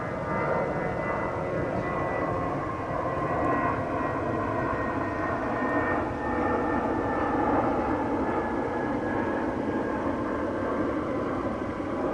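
An airliner at Dallas/Fort Worth (DFW) Airport sends out a steady, loud jet engine roar that holds with little change for about twelve seconds, with no talk over it.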